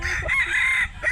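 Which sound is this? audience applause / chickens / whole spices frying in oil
chickens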